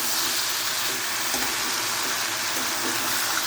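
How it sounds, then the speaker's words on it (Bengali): Potato, okra and raw chickpeas are stirred and sautéed with spices in a pan, producing a dense, even hiss of frying with a few faint stirring knocks, steady and close with no speech. "ভালো করে নেড়ে চেড়ে নেব দু তিন মিনিট ধরে এটা একটু ভালো করে কষিয়ে নেব"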